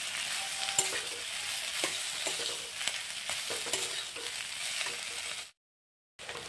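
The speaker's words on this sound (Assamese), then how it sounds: "অলপ ভালদৰে এনেদৰে মছলাত ভাজি ল'ম।" Potatoes sizzle in oil seasoned with turmeric and cumin powder while a utensil stirs them, scraping and tapping at intervals over a steady crackle that drops into a brief silence near the end.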